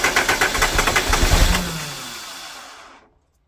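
A 12-valve Cummins diesel engine, running without coolant or fan, chugs loudly and close with a rapid knocking rhythm, then winds down and stops, leaving silence.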